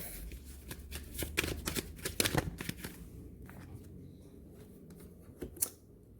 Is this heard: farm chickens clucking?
no